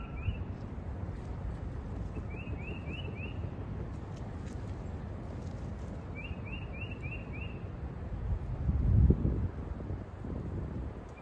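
Steady broadband wind noise buffets the microphone outdoors, with brief chirping bird calls in the background and a stronger gust near the end.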